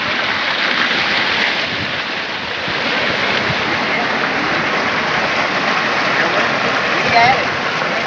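A new tube well driven by a turbine pump pours water out with a steady, dense gushing rush on a farm, continuous and close throughout with no pauses.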